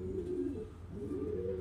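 High-quality racing pigeons coo in repeated rolling, swelling phrases, fairly close and clear, with a brief dip midway and no talk.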